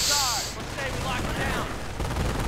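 Bursts of gunfire ring out in a WWII strategy video game battle, a loud burst at the start followed by a quick run of shots and bangs in the mix, all packed into a couple of seconds.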